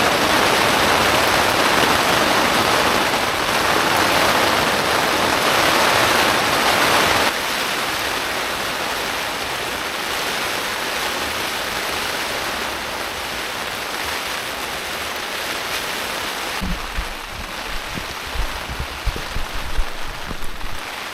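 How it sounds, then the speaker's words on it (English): Heavy rain drums steadily on a camping tent, a loud continuous hiss that eases slightly after several seconds, joined near the end by close clattering and rustling inside the shelter. "That's some bad rain, that is."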